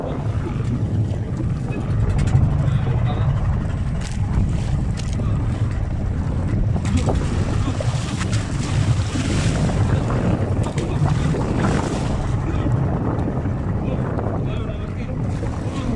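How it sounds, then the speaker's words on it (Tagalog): Loud, continuous roar of big sea waves and rushing wind around a moving boat, churning steadily without a break. "Ang laking alon."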